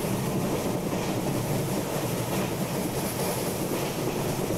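An express train running on rails in Train Simulator 2020 on the Rameshwaram to Kanyakumari route, a steady, loud rolling roar with faint clickety-clack of wheels over the track, continuous and without speech.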